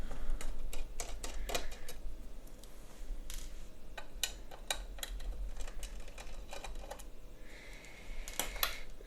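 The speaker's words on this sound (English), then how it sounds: "So now I'm going to remove the other 2 screws from the other side." Screws are being removed from an ASUS GTX 580 DirectCU II graphics card, with a run of small, sharp ticks and clicks of a screwdriver working close by over a low hum.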